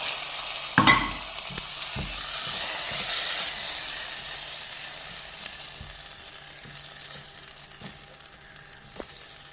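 Roasted grated coconut tipped into a pan of pumpkin erissery for Onam and stirred: a soft sizzle and hiss with a few spoon scrapes and knocks against the pan, continuous and close, with no talk.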